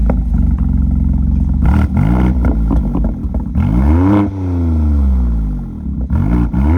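A BMW X3 M SUV with an unknown aftermarket exhaust revs hard several times in a row, each loud blip rising and falling, with a longer sustained rev and drop near the middle and a quick final blip.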